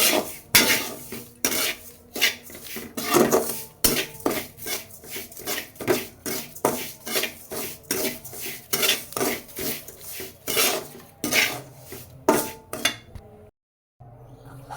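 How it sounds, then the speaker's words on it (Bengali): Semolina fried in oil in a pot with bay leaves, heard as rapid, rhythmic metal scraping and clinking of a spoon against the pot, close and loud, stopping briefly near the end. "তেল দিয়ে এখন সুজিগুলো ভালো করে ভেজে"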